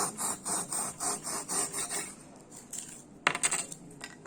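Rhythmic rasping strokes of a blade cutting through foam for a mouse model, about eight steady back-and-forth passes, then quieter scraping and a sharper burst of cutting near the end, close and with no talking.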